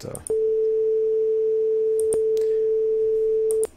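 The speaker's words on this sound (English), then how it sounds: "let me just play an example tone here" A steady, low-pitched pure tone like ringing in the ear, held evenly for about three seconds with a couple of faint clicks over it, alone with no talk.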